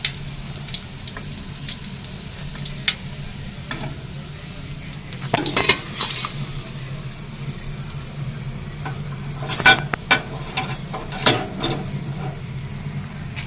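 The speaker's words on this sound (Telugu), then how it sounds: "దీంట్లో సిమ్లో పెట్టుకొని ఫ్రై చేసుకున్నామండి" Fish pieces frying on a low flame in a pan, a soft continuous sizzle with occasional clinks and scrapes of a utensil against the pan.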